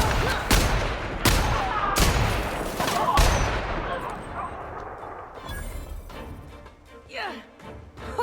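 Gunfire in a sci-fi video game with dinosaurs and space settings: about five loud, sharp shots spaced roughly a second apart, then fading clatter and scattered effects, with a person speaking over parts of it.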